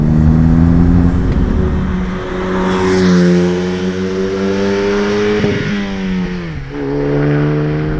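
A 2016 Specter Motor Works kit car cruises with its open-air engine droning loud and close. The steady hum dips briefly in pitch before settling again.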